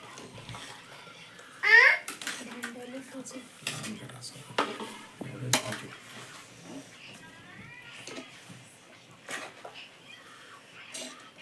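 A spoon scrapes and clatters against a pot of chicken biryani being mixed, in sporadic knocks at moderate volume, with a voice and a cat's meow mixed in.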